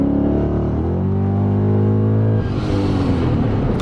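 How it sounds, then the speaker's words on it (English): A supercharged 725-horsepower Lexus IS F sedan revs hard from inside the cabin, its engine note climbing loudly and steadily before a gear change drops the pitch into a rougher, rushing roar. "And you can hear that supercharger."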